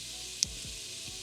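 Tomato paste sizzles in a pot of beef stew, a steady, fairly quiet frying hiss with a soft knock or two from stirring.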